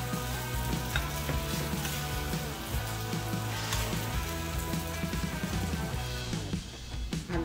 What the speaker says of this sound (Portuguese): espalhar aqui bem, até que fique bem nivelada no fundo da frigideira